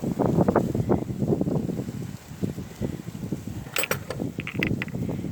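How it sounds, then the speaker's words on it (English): A wrench turning a penetrant-treated bolt on an old abandoned Fordson Major tractor, heard as close, rough mechanical grinding and creaking in uneven bursts, with a few sharp metallic clicks. "This bolt turns way easier now once I use the freeze-off penetrant on it."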